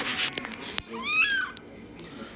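A mother cat meows for her kitten, one clear rising and falling meow close by after a few soft rustles, with faint background noise.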